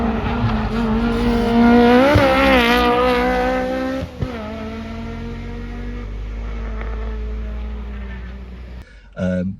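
A high-revving naturally aspirated K20 engine in an MR2 on a race track climbs through the revs with rising harmonics, then drops off, with a brief burst near the end.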